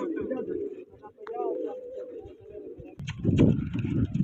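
Pigeons at a pigeon flying competition cooing in soft, repeated throaty calls close by, with people talking over and between them and a louder burst of voices near the end.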